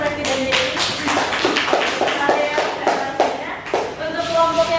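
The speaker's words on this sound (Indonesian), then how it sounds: "Tolong beri tepuk tangan untuk Presiden Jerry." Classroom applause for a student presenter, a handful of people clapping in a loose, uneven rhythm close by, with voices talking over the claps.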